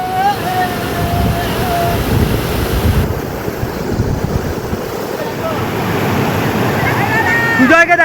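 Water pours over a dam at a monsoon-season bathing spot in Bankura, making a continuous rushing roar mixed with wind buffeting the microphone, while people's voices carry over it.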